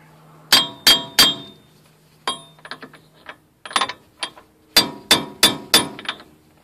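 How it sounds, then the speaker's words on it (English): Metal hammer tapping a 29mm socket onto a bolt on a 2005 Ford Explorer, three sharp ringing clangs, then a run of lighter clinks and scrapes, then four more evenly spaced loud strikes, close and with no talk. "With your 29mm socket, just put it right in the side here. Give it a few taps."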